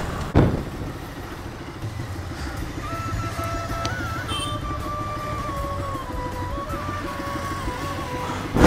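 A scooter races at full speed on a road, its engine droning steadily with a rising and falling whine, heard from a nearby motorcycle amid the hum of traffic.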